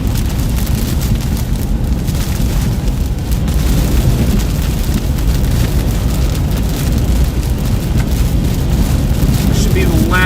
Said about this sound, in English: This should be the last bit of the rain shower.